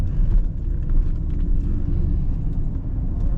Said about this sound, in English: Even being 20 years old, the LS1 sounds remarkable.